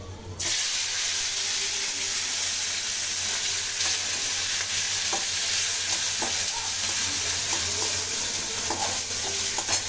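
Panch phoron, onion, green chilies and tomato frying in hot oil with dried red chili for a potato curry, a loud constant sizzle with light stirring clicks throughout.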